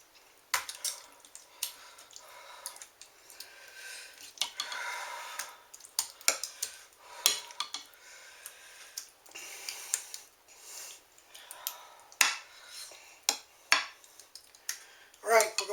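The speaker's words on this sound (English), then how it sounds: "We are going to start by taking about a quarter of our mixture and placing it in the bottom of our pan." Lasagna mixture being spooned into the bottom of a baking pan, with quiet scraping and irregular clinks and taps of a utensil against the pan, close and soft with brief pauses.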